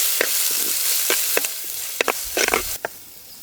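Onion, ginger and garlic fry in sesame oil, a loud hiss of sizzling punctuated by several sharp scraping stirs of a utensil in the pan.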